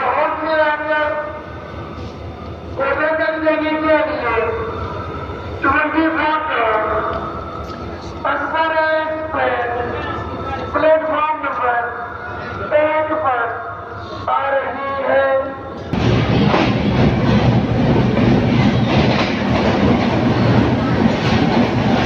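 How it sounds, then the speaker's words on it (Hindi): A train pulls into a station in Faisalabad, Pakistan, around evening, its approach a broad rumbling roar that swells and fills the last several seconds, following a stretch of speech and music. "ट्रेन आ गई"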